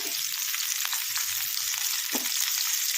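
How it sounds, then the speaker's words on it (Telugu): Ivy gourd pieces fry in hot oil, giving a loud, continuous, close sizzle with a few small pops and stirring sounds. "నూనె వేగంగానే దీంట్లో ఈ ముక్కలు వేసేసుకోవాలండి."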